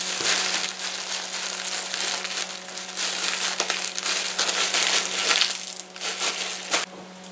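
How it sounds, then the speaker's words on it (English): Plastic film being wrapped around British sirloin steaks, a close, continuous crinkling and crackling over a steady low hum. "that's all my steaks wrapped up. You can see there's more plastic than, than steaks here"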